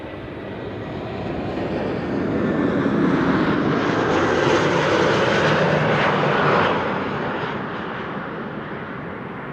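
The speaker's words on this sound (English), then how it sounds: "JetBlue arriving from Boston, Massachusetts, A321neo." A JetBlue Airbus A321neo arriving from Boston at Amsterdam Schiphol Airport on a frosty day gives a broad jet roar that swells, holds steady and then fades, with no voices.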